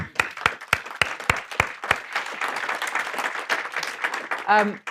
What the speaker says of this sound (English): we should give Lloyds Bank a round of applause